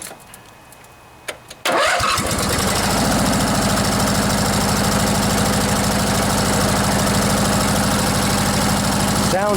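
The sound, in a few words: Briggs and Stratton riding lawnmower engine running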